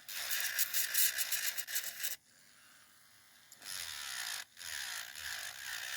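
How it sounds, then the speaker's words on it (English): An electric nail file buzzes loudly and close while filing gel off nails, running at a raised speed in bursts, with a brief quiet gap between passes. "I've already got my e-file right here. I'm going to turn it up a little bit more"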